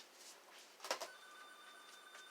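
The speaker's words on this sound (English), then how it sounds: "why is the phone ringing right now?" A telephone rings faintly in a room, one short trilling ring burst followed by a lingering electronic tone, set against a steady low background hiss.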